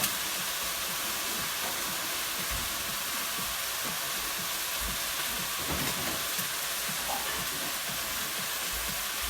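Beef sizzles in a pan for sukiyaki, a dense continuous hiss and crackle that stays steady and close throughout with no talk.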